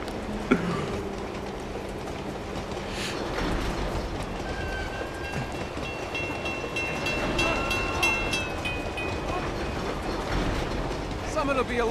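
A moving train in the video game Uncharted 2 gives a continuous rumble with rhythmic clickety-clack and mechanical ticking, holding steady throughout with a sharp knock near the start.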